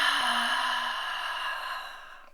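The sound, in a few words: full breath exhale during mobility drill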